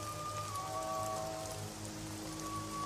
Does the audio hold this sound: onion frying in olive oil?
no